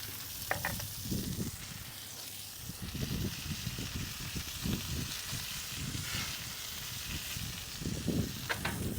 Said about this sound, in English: Gonna add our fresh garlic.